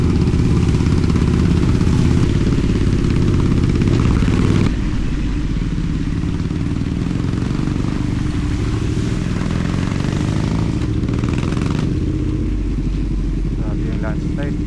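Motorcycle ridden along a damaged, landslide-hit mountain road in the Cordillera, its engine droning loud and close with rumbling clatter from the rough surface, level dropping slightly partway through.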